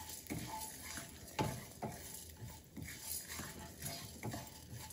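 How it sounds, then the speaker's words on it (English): Fenugreek seeds being sautéed and stirred with a spoon in a pan, giving a soft continuous sizzle broken by light scraping and clinks of the spoon against the metal at an uneven rhythm, close by with no talking. "I'm just going to be using the same spoon to saute this."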